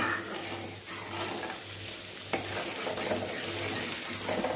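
Onion-chili paste boiling in a pan, a dense continuous bubbling hiss with a steady low hum beneath, and a brief scrape as it is stirred near the middle.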